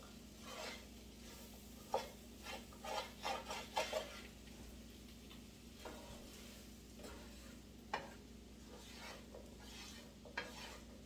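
Onions browning in a pan for French onion soup, a soft low sizzle under clusters of stirring scrapes and utensil taps against the pan, faint and close.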